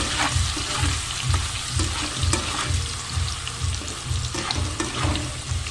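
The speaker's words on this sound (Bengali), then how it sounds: "তো আমি পনিরগুলোকে হালকা হালকা করে ভেজে নেব।" Paneer pieces frying in hot oil in a home kitchen, a continuous loud crackling sizzle with soft stirring clatter underneath, steady throughout.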